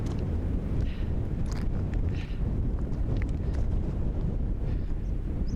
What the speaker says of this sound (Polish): Tutaj jest więcej wiatru.